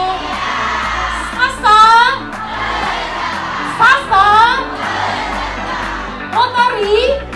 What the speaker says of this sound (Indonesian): Boleh kita beri aplaus yang meriah sekali Bapak Ibu